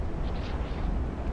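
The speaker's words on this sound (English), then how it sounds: "Stern belt extended ammo detonation, and she is done." Warship magazine detonation in the naval game Ultimate Admiral: Dreadnoughts, a heavy, sustained low rumbling roar of the ammunition explosion that stays loud and dense throughout with no talk.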